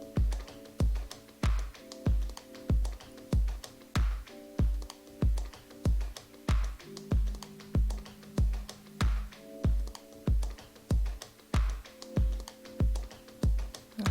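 Scissors cutting fabric along the edges of a sewing pattern for a jumpsuit, giving a steady run of crisp, evenly spaced snips under soft background music.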